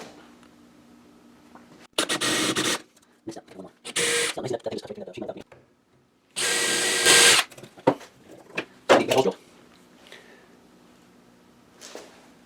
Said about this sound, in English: And the hole's drilled there.